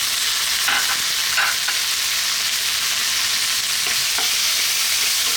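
Chopped tomato and onion sizzle steadily in a hot pan, a loud, continuous frying hiss with faint stirring scrapes, and no voices.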